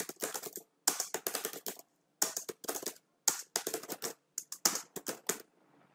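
Rapid typing on a computer keyboard comes in quick bursts of sharp key clicks, separated by short silent pauses, close and alone with no voices.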